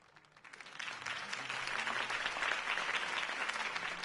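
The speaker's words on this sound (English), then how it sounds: "could have heard that applause" Applause from a crowd swells after a quiet start and holds steady, a dense, continuous wash of clapping.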